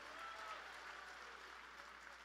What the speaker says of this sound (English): Please give a round of applause for Liz Black.